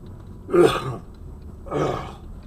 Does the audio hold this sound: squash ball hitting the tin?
no